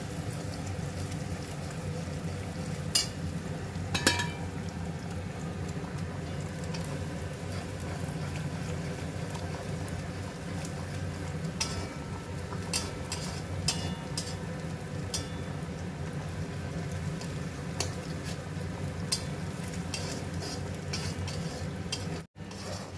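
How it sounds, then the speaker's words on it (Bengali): Eggs fry for egg prawn fried rice, a steady frying sizzle throughout, with occasional scraping and tapping of a utensil stirring in the pan; no voices. "এবারে ডিমটাকে একটু ভালো করে ফ্রাই করে নেব"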